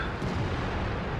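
An artillery shell strikes a tank during a World of Tanks battle, with the player in a Cromwell: a loud, dense, rumbling boom that fills the whole moment with heavy low-end roar and no voices.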